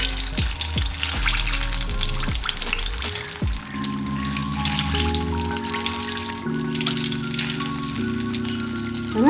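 Onion samosas deep-fry in hot oil with a dense, crackling, bubbling sizzle that holds steady and close, while tonal background music with gliding notes plays throughout.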